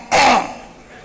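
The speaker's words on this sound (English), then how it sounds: "if I clear my throat the second time" A single short, forceful throat clear, close and clear, fading into quiet room tone.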